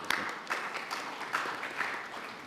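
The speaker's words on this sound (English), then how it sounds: "And we have to applaud for this" An audience at a municipal forum mayoral panel claps in a thin, scattered patter that fades in and out, fairly faint and heard from a distance.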